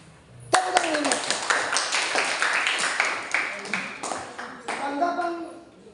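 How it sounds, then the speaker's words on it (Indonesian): A group of participants in a school counseling workshop session clap their hands together, starting abruptly and continuing as loud, dense, somewhat uneven clapping with distinct individual claps and some voices mixed in, then tapering off. "Tepuk tangan dulu."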